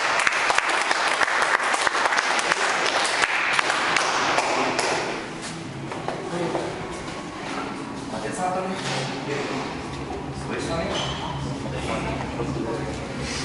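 Audience applause at a bench press competition, broadband clapping filling the hall for about five seconds, then thinning as an announcer's amplified voice takes over over lighter scattered clapping.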